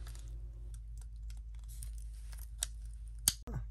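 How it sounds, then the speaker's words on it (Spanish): Battery cover of a 2019 GMC Acadia or Sierra remote key fob snapping shut, a single sharp click near the end of a quiet stretch with faint handling noise. "Ya nomás le hace clic y está listo."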